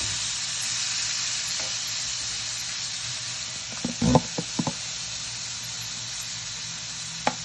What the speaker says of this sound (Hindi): फिर उसमें मैरिनेटेड फ़िश डालकर दरमियानी आंच पे 3-4 मिनट पकाएं